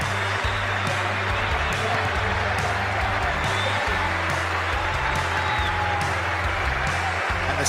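Sydney cricket crowd applauding a batsman who walked out to bat, sustained dense clapping and cheering filling the ground, steady and loud throughout with a low rumble beneath.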